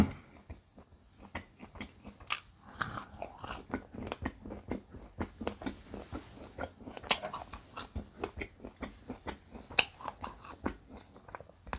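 Crisp, steady crunching bites and chewing of boraphet, a bitter Thai herbal vine, in a quiet close-miked eating session, with rapid clicky mouth sounds repeating throughout and no talk.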